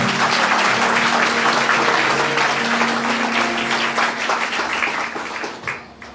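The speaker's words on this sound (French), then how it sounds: "que demandons un bel applaudissement." A church congregation in Caradeux, Haiti gives a round of applause, with loud, dense clapping that holds steady, then thins and fades out near the end.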